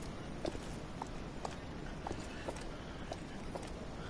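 Enemy knights in Dark Souls III walking with heavy, horse-like clip-clop footsteps, a regular rhythm of about two thuds per second, moderately distant, over a constant game ambience.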